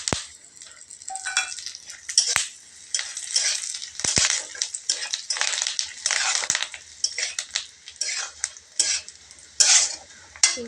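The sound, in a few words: stirring curry leaves, fennel and cumin in a pan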